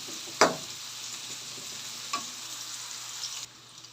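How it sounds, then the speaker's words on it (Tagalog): Mussels with onion, garlic and ginger sauté in a pan, giving a soft continuous sizzle broken by a sharp stirring clatter early on and a fainter scrape later, before the sizzle drops away. "Gigisa tayo ng masarap na tahong."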